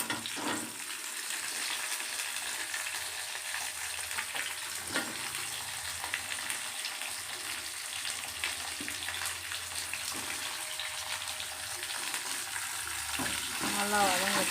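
Garlic, tamarind, dried red chillies and shallots fry in a pan with a steady broadband sizzle that runs the whole time, with small clicks of stirring now and then near the end.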